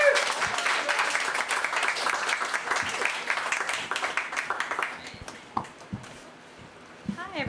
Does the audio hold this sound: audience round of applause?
yes